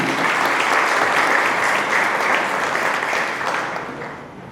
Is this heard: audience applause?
yes